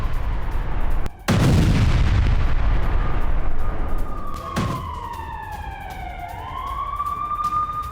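Israeli airstrikes on Gaza: a heavy explosive boom with rumbling aftermath, another thud a few seconds later, and a wailing siren rising and falling in the background.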